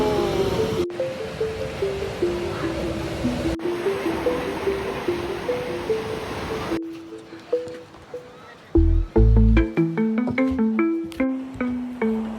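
Ocean waves wash and break steadily at Laguna Beach, a broad continuous surf roar with rhythmic swells, overlaid partway by music with plucked notes.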